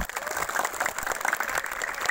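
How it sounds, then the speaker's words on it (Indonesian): Audience applause for students at a school youth Red Cross first-aid demonstration, a steady wash of many hands clapping at moderate distance, fairly soft, with faint voices mixed in. "energi positif untuk kita semua dengan tepuk tangan paling meriah."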